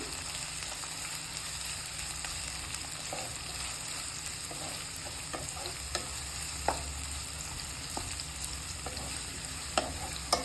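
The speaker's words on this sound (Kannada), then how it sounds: "ಆನಿಯನ್ ಫ್ರೈ ಮಾಡ್ಕೊಳ್ಳಿ." Onions frying in a pan for a red pasta dish give a steady, close sizzle with occasional scrape and stir clicks, and no voices.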